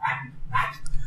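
Two dogs bark in short bursts, a couple of sharp barks near each other, with a steady low hum underneath throughout.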